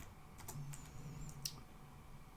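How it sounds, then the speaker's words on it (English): Keys clatter on a computer keyboard in a short, quiet burst of typing with a few sharper clicks, close by over a faint steady hum. "Let's just type this hello1234 plus."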